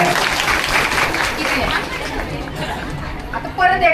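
Crowd at a Mangalagaur festival performance clapping and chattering together, a busy mix of hand claps and overlapping voices nearby, fading toward the end.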